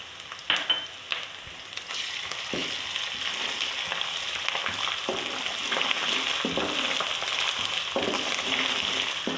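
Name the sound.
ginger frying with browned onions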